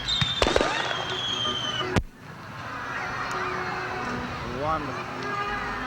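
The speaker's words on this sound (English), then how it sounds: "the fireworks spectacular that capped it all" Sharp fireworks bangs from a show's fireworks display burst in the first two seconds, followed by a steady crowd murmur with voices and whistles in the distance.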